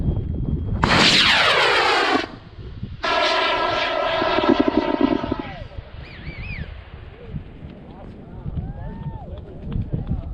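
A two-stage model rocket lifts off on an Aerotech I600 first-stage motor and an Aerotech I280 second-stage motor. Two loud roaring bursts are separated by a short gap, then fade into outdoor crowd noise, with people talking and calling out.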